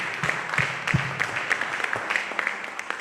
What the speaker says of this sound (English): Can you clap your hands and praise the name of the Lord?